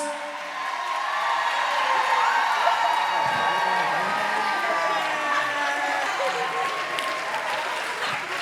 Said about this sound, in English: Cheer for your dancers!